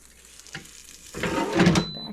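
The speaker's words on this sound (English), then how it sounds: "You can already hear it. Ow, the sizzling." Quiet clatter, then a rising crackling sizzle of chicken tenders hitting a hot air fryer basket, close and moderately loud for about a second.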